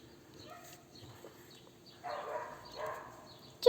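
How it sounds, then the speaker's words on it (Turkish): A dog whimpers faintly in short, soft, high-pitched whines, with a couple of louder whining bursts near the end of a quiet room. "Ay köpeğimiz ağlıyor."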